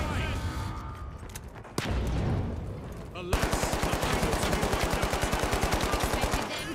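Gunfire in the video game The Finals: a few scattered shots, then a long, steady automatic burst of evenly spaced, loud, close rounds, with a voice heard over it.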